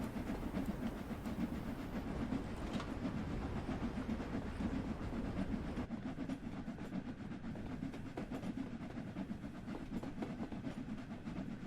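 Steam locomotive working hard up a heavy gradient in Train Sim World 3, regulator opened to about 70%: a steady, loud rumbling roar with hiss and rail clatter, continuous and close throughout.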